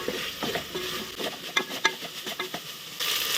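Ginger garlic paste stirred in a hot pan for a spicy brinjal and chickpea curry, a spoon scraping in uneven close strokes over a steady sizzle, with no talking.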